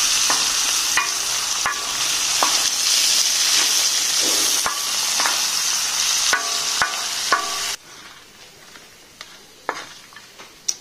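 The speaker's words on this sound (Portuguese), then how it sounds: "Fritamos aqui, gente, nossa calabresa." Calabresa sausage fries on a plow disc with a loud, steady sizzle and hiss, punctuated by scraping stirs; the sizzle drops sharply toward the end, leaving quieter crackles and occasional clinks.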